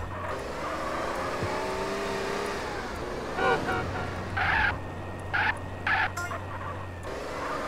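A race car in GTA San Andreas drives with a steady engine drone, punctuated by a few short louder bursts toward the end, all at fairly close range.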